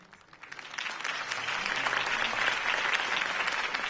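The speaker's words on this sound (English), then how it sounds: "could have heard that applause" A crowd applauds a campaign speech for Harvey Dent, the clapping swelling from a few hands into a dense, sustained wash of applause.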